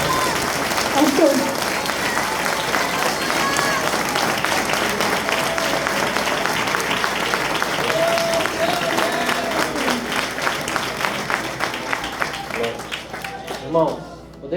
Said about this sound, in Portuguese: levante as suas duas mãos mais alto que você puder e aplauda Jesus Cristo